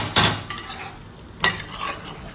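Chicken seasoned with salt, turmeric and chilli stirred in a pot on the stove, two sharp scraping clatters of a spoon against metal over a low steady sizzle of cooking.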